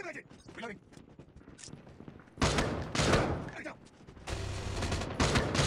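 Gunfire bursts from the mobile shooter game Call of Duty Mobile, including sniper rifle shots, come as loud blasts and rattling volleys after a quieter stretch, with someone talking excitedly over parts of it.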